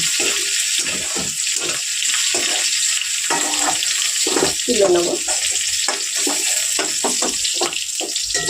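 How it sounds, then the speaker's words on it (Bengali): Potato and pointed gourd pieces fry together in a little oil, a continuous bright sizzle with spatula scrapes while someone talks briefly over it. "অনেক কাঁকরোল আর আলুটা কিন্তু ভাজা হয়ে গেছে ভালোভাবে।"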